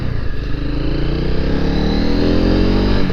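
A Honda CRF250L Rally motorcycle engine drones steadily while riding on gravel, a loud, close, continuous hum with rising harmonic tones as it gently accelerates.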